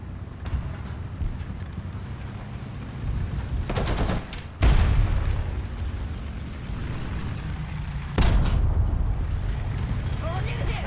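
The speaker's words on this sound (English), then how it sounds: "Machine gun ready for action." Tank machine gun fire in War Thunder from an M4A1 (76) W Sherman, with loud broadband bursts around four and eight seconds over a steady rumbling engine and battle bed, with speech present.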